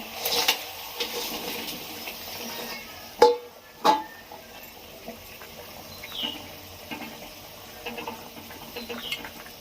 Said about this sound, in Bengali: জল ফুটছে, এবার আমি মাছ দেবো।